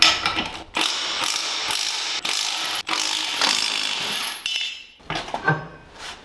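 A pulley puller ratchets against a pressed-on CVT pulley on a 999cc V-twin, with dense metallic clicking and clanking bursts broken by brief pauses, close and fairly loud.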